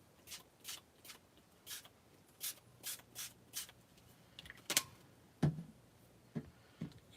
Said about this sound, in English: let me just give this a shake because it's settled a little bit on the bottom. And let's start spraying.